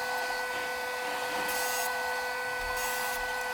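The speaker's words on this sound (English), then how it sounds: "Then we're over to the belt thicknesser, slide that through there a bunch of times just to get it to approximately 7 mils." Belt thicknesser sanding a thin wooden pickup ramp for a bass guitar, a steady loud machine drone with a constant tonal hum, brief brighter rasping bursts as the wood passes through, no voices.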